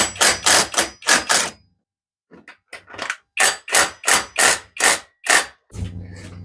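A cordless Milwaukee impact wrench rattles in short bursts loosening bolts on a car with a TU5JP4 engine, about a dozen sharp hammering runs separated by brief pauses, loud and close.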